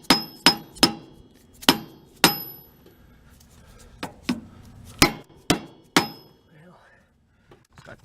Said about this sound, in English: Okay, hammer. Let's tap that baby in there.